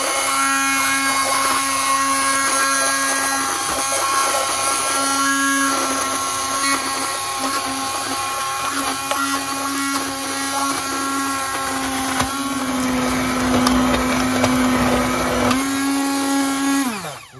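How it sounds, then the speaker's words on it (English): A blender purées boiled parsnip soup with a loud, steady high-pitched motor whine that holds for many seconds and shifts in pitch near the end as the load changes, then stops abruptly. "And now it's time for the blender."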